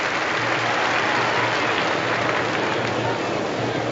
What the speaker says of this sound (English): Little generous round of applause for them